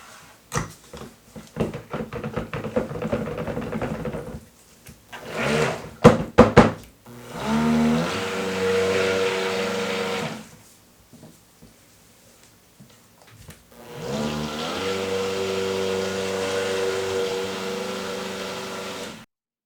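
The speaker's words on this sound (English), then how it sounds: "I'm just going to blend it in with the mixer." A mixer blends soap batter in two sustained whirring bursts, separated by a stretch of softer clatter and handling noises.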